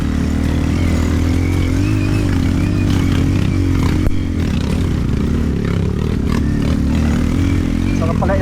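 A Kawasaki KLX dirt bike engine idles loudly and steadily nearby, with some clattering and scraping mixed in throughout.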